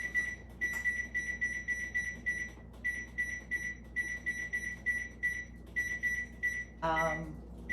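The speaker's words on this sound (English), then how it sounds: "We're gonna set this first timer at 25 minutes." A kitchen oven timer gives repeated short, high electronic beeps in quick bursts as it is set, fairly faint against a low background hum.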